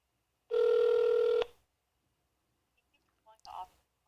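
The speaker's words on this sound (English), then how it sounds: "One moment. Transferring your call." A telephone hold or transfer tone plays as a steady single-pitch beep lasting about a second, followed by silence and a few faint clicks and line noises on the call.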